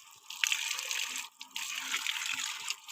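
A bucket filling with water from a tap, a steady hissing gush close by with a brief break midway, and faint voices in the background.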